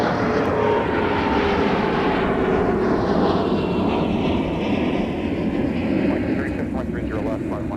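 An airliner's engines roar loudly and continuously at Minneapolis–Saint Paul airport, a broad steady rush with a slowly falling whine as the jet moves near the runway.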